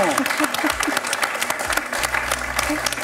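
A quiz show studio audience applauds a contestant named Sandrine after her high score, a dense burst of clapping that keeps going while a host's voice talks over it.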